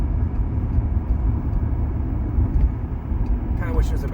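Honda Accord with a manual transmission and new OEM shifter cruising in fourth gear: a steady, loud interior engine and road drone, with a faint voice-like sound near the end.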